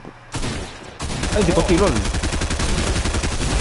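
Rapid Fortnite gunshots crackle in quick automatic bursts, loud and close, rattling almost without pause while a person talks over them.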